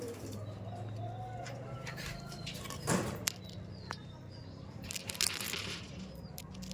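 Laldom pigeons coo softly in a loft, with scattered chirps and a few sharper calls over a steady low background murmur.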